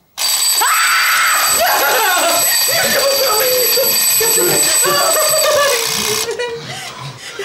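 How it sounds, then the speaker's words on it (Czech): A wind-up alarm clock ringing loudly and continuously for several seconds, a harsh metallic bell clatter that fills the room, with people talking over it before it stops. "Já jsem si ten budík asi natáhl ze zvyku."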